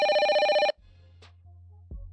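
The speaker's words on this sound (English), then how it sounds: "My shoulders tense when the phone rings." A telephone rings in a short electronic burst at the start of a crime audio drama set in Miami, then cuts off, leaving a low, steady hum with a couple of faint clicks.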